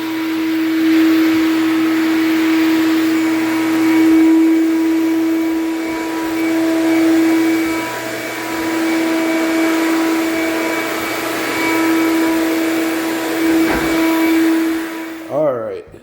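A vacuum cleaner running over a wood floor during a floor cleaning job, a loud continuous motor whine with shifting suction noise for the whole clip, cutting off near the end with a brief clatter.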